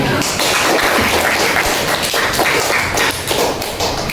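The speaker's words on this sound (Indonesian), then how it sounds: "Jadi tepuk tangan untuk kalian." Seventh-grade students clap in a classroom during a science lesson, a loud, close, busy flurry of hand claps and thumps that continues without a break.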